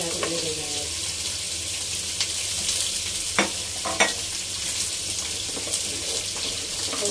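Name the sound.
sautéing garlic, onion and tomato for beef mechado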